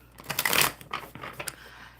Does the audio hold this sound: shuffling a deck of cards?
yes